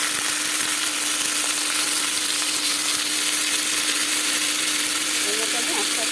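Boiled snake gourd dropped into onions frying in a wok produces a loud, continuous hiss and sizzle, steady throughout and heard alone.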